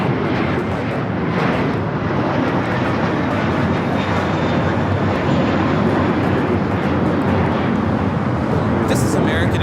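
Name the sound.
American Airlines A321 jet taking off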